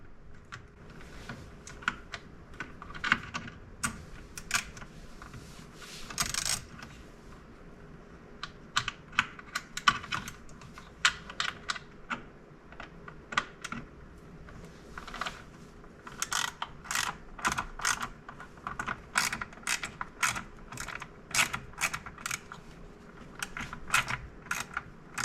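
A screw being worked out under the steering column of an Audi S5 B9, rapid quiet ratcheting clicks in bursts with pauses between runs, close and dry.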